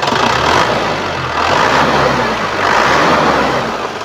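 A loud, steady diesel engine of a 1999 Isuzu Panther idles close by with a gruff low rumble and slight periodic swells in level throughout.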